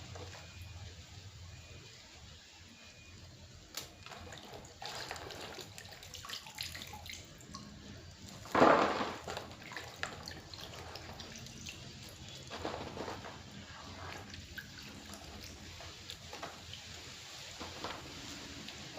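Running water rinses coriander and mint leaves in a home kitchen, a soft steady trickle and splash with a brief louder gush midway, staying faint and close throughout.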